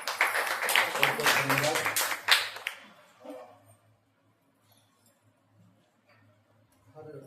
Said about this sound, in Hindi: स्वागत है और पहली बार आए और जोरदार ताली बजा सकते हैं।